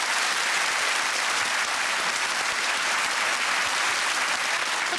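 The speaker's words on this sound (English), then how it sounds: "applaud yourselves. That was very good." A studio audience at the British comedy panel show QI claps in sustained, even applause that stays at a constant, fairly loud level throughout, with no voices standing out.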